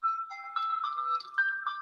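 A phone rings during a spiritual discussion gathering, a steady electronic warble of repeating tones at moderate volume, sounding alone with no talk over it.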